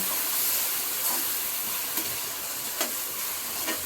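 Browned onion with tomatoes, green chilies and ginger frying hard in a pan, a loud dense sizzle close up with occasional stirring knocks and scrapes, no speech.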